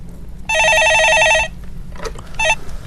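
A telephone rings in a Korean stock-market call-in broadcast: one long, bright, trilling electronic ring burst, then a brief second burst after a short pause, loud and clear over a quiet studio background.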